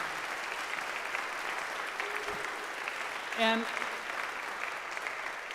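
A town hall audience applauds for the Attorney General, a soft, distant wash of clapping running throughout with a brief spoken word and a faint tone partway through.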